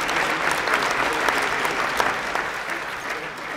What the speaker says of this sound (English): Please applaud, a round of applause for these dedicated individuals.